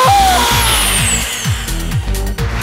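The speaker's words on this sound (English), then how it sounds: "start the drill" An electric power drill runs loudly and steadily up close, its motor whining continuously with a rhythmic pulsing hum throughout.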